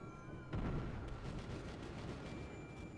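Secondary guns of a battlecruiser firing at a pursuing destroyer in World of Warships, a sudden booming blast followed by a rumbling tail and a few lighter cracks, moderately loud with no talk.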